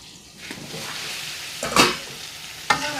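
Food sautéing and being stirred in a frying pan, a steady close sizzle with a couple of sharper scrapes or clinks of the utensil against the pan.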